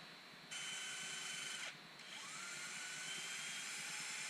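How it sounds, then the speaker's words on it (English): A power sander whines steadily against a Brazilian pepper wood bowl, smoothing the nub off its foot; the high, even hum stops briefly midway and then resumes, close and alone. "Just carefully sanding the little nub off there so it's smooth."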